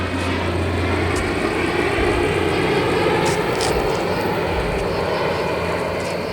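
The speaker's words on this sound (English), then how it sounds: "Whoa, that's an airplane" A loud, steady engine roar of an airplane passing close overhead, droning continuously throughout with a few faint clicks on top.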